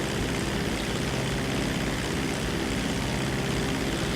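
Mammoth Dodo seaplane in GTA 5 Online droning steadily in flight, a loud continuous propeller engine hum holding even throughout with no voices.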